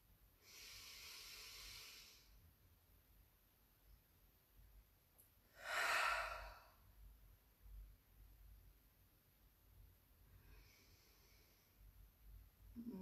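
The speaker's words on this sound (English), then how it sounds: "Keep breathing through the nose, in through the nose, out through the nose." Slow breathing in and out through the nose during a guided meditation, with soft airy breaths rising and fading and one louder, fuller breath in the middle, heard alone without talk.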